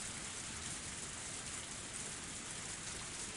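Torrential rain pours in a steady, dense hiss without pause, even and unbroken in loudness throughout.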